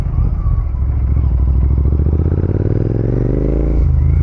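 A Royal Enfield GT650 motorcycle engine runs loud and close during off-road riding, with a steady throbbing rumble that rises in pitch as it revs near the end, over rattling clatter from the rough ground.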